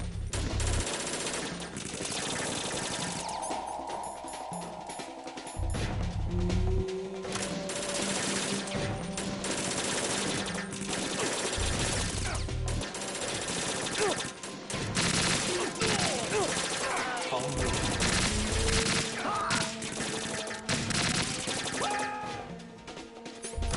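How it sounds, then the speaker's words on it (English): Automatic weapon fire in Metal Gear Solid 2, dense and near-continuous bursts over game music and effects for the whole stretch, loud and busy. "Using the automatic weapons fucking sucks."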